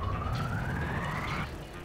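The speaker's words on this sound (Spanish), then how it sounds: "Joder, cuánta ambulancia." A wailing ambulance siren from Kirby's Return to Dream Land, a single rising tone sweeping steadily upward over a dense, loud game soundtrack, then cutting off near the end.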